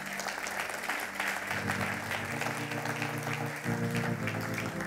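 A church congregation claps and cheers in a large hall, making a dense, continuous wash of applause with a sustained sung or shouted voice tone running underneath.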